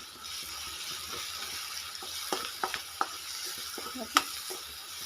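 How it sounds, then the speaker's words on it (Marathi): Turmeric powder is stirred into a sizzling Marathi phodni tempering for a moong amti, with a steady close fry hiss, scraping spoon strokes and a few sharp crackles and pops. "मी आता दोन चमचे हळद हळदी पावडर टाकून घेते फोडणीमध्ये"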